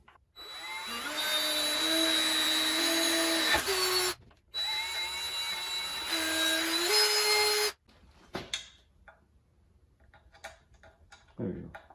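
A power drill fitted with a 1/4 inch bit bores a bolt hole while working on a 1960 18hp Elgin outboard motor, two loud close whining runs with a brief pause between, then quiet clicks and handling noise.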